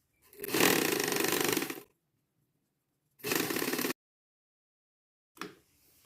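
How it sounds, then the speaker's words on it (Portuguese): A sewing machine stitches the sides of a mitred-corner tea towel in three bursts: a long run, a shorter run after a pause, then a brief final start, with silence between. "podemos terminar a costura dos 4 lados"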